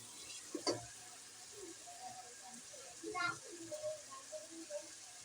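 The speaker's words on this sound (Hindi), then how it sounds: "अब हम इसमें डाल लेंगे आलू मटर।" Potatoes and peas for aloo matar frying in spiced oil, a faint, steady sizzle with a few soft clinks and stirring sounds while someone speaks quietly.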